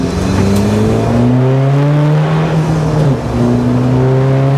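A 250bhp SEAT Ibiza FR TDi diesel track car roars past, its loud engine note climbing through rising harmonics, dipping briefly, then pulling hard again close by, with no talking over it.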